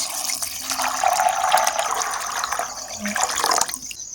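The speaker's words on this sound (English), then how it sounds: "My beans that I soaked, I'll go ahead and add a little more water to it." Water pours from a tap into a pot of soaked yellow beans, a continuous close splashing gush lasting several seconds before cutting off near the end.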